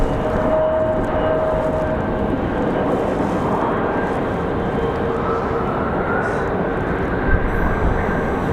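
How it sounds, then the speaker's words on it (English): Airbus A321 airliner at Raleigh-Durham airport, a loud continuous broadband jet roar with a faint steady whine, holding nearly constant throughout in windy conditions. "So that A321 hanging out right there."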